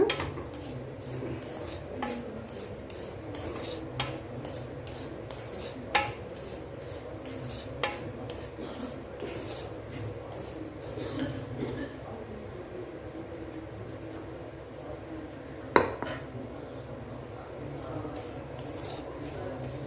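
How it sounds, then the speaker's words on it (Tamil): Semolina dry-roasts in a pan without oil, heard as steady, rhythmic spatula scraping and rubbing against metal with occasional louder knocks, close and fairly quiet, with no voices. "ரவை சேர்த்து நல்லா வறுத்து கொடுத்துக்கலாம் எண்ணெயே விடாமல் ட்ரை ரோஸ்ட் பண்ணிக்கோங்க"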